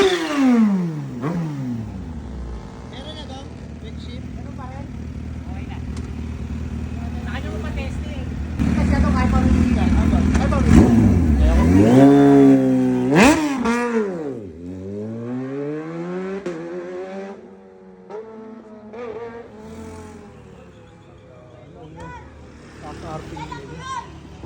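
A Kawasaki H2SX motorcycle engine revs loud and close, rising and falling in repeated sweeps, with people talking over it.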